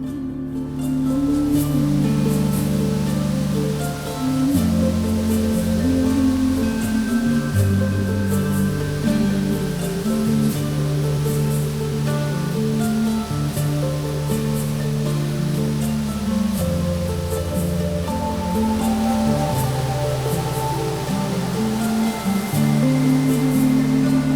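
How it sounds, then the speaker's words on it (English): Waterfall in Khao Lak national park, Thailand, roaring as a steady, loud, broadband rush of falling water that continues unbroken throughout. "Then it was time for the waterfalls."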